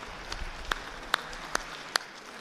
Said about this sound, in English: I wish everybody would give them a round of applause, the future court reporters